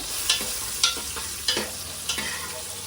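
Green chillies frying in oil for sambar rice, a soft background sizzle punctuated by four evenly spaced spatula scrapes against the pan.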